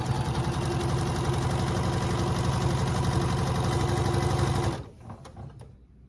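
A sewing machine runs at a steady fast clip, stitching quilt pieces for a beginner checkerboard block, loud and close with a rapid mechanical whir that stops abruptly near the end, leaving faint handling sounds.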